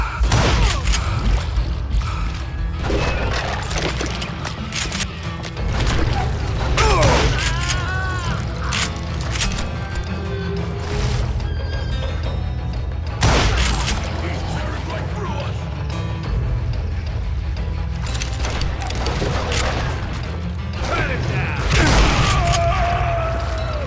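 Gunfire in the Western shooter game Call of Juarez: Gunslinger, loud repeated shots and booms in bursts over a dense, busy game soundscape.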